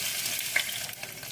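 Mustard seeds and crushed garlic fry in hot oil in a pan, making a steady close hiss with a brief pop of crackle partway through, and no voices.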